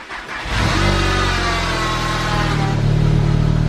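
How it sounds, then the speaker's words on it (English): An Audi S3 cold start: the engine cranks and catches within a second, then settles into a loud, steady, high idle right up close, with no talk over it. "Alright, let's get a cold start."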